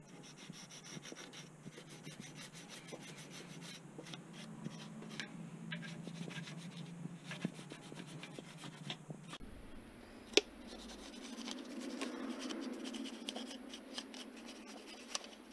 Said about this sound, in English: I'm gonna go ahead and clean off right where the gasket is gonna touch